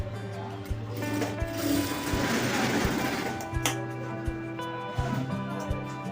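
A sewing machine stitches the corner of a cloth cross belt, its needle running in short rhythmic bursts with pauses between, close up and moderately quiet, along with faint handling of the fabric.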